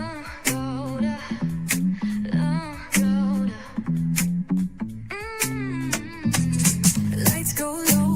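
A brand new anthem song plays as background music during a live virtual tour of a Six Flags rebrand, with a melodic sung or synth line that pulses in short phrases over a steady beat, loud and continuous.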